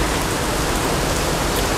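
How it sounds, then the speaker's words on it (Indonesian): Rain falls steadily in Jakarta, a dense and even wash of noise that stays loud and unbroken for the whole short stretch with no voices. "Namun hujan melanda ibu kota Jakarta"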